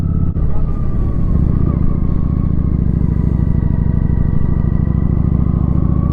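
A motorcycle is being ridden, its engine giving a loud, steady, close rumble that holds without pause throughout.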